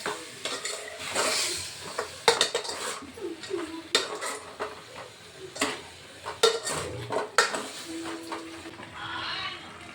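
Salt and turmeric stirred into food in a pan, with repeated scraping and clinking of a spoon against the metal over a faint sizzle, close and irregular.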